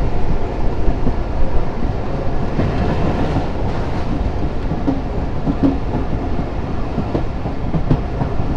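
Dhalarchar Express train running on rails between Dhalarchar and Chapainawabganj, a steady loud rumble with rhythmic clickety-clack from the carriage, continuous and with no talk.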